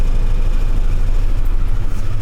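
Engines of an ex-RNLI lifeboat idle after start-up, producing a loud, steady, low rumble that continues without a break.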